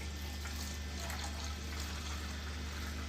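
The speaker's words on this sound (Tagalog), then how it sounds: "lagay natin ng tubig." Water pours steadily into a container holding about 900 ml for a simple DIY hydroponics setup, a continuous close, even splashing rush with no talk.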